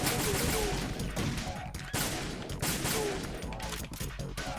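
Weapon fire in a Metal Gear Solid boss fight against Fatman, heard as dense bursts of shots and impacts throughout, loud and close over game music.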